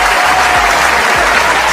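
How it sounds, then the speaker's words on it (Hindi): Applause from a crowd, steady and dense, filling the whole moment with continuous clapping and no voices over it. "तालियां"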